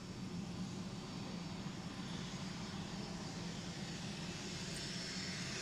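Airbus A330 jet engines spool up slowly at Manchester Airport, a steady broad roar with a faint high whine, sustained and even throughout with no voices.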